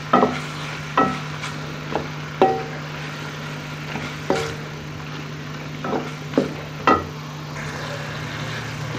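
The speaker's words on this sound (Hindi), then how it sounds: "अब इसको हम 2 से 3 मिनट तक भूनेंगे।" Minced keema and tomatoes sautéing in a pan, a spatula knocking and scraping about a dozen times at uneven intervals over a low, steady sizzle and background hum.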